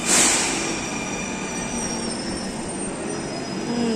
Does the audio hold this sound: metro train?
yes